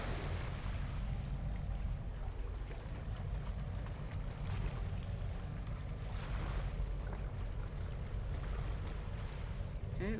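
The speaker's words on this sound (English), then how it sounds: "we're going to sail down the stream at 4 knots" A fishing boat cruising along an ocean current at about four knots in the Deadliest Catch video game, with a steady, dense rumble of engine, wind and waves washing against the hull throughout.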